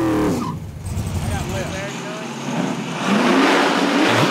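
Mike Hadley's orange Chevrolet Nova drag car revs hard at a midnight drag strip, its engine rising in a loud, steady roar, with a crowd and voices murmuring underneath.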